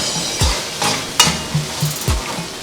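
Garlic fried rice, sinangag, being stirred in a hot pan, with repeated scraping strokes of a spatula over a steady sizzle and a few sharp clanks against the metal, with no voices.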